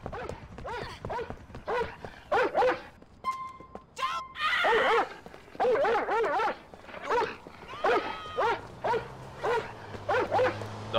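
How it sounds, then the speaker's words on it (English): Police K9 dog in GTA 4 attacking a suspect, barking, yelping and snarling in quick repeated bursts, close and loud, with a brief beeping tone in the middle. "Don't run, or I will release the dog."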